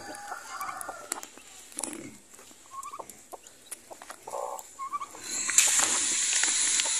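Newly hatched chicks and hens on a farm make short, scattered chirps and clucks at close range over a quiet background, with rustling and a louder hiss near the end.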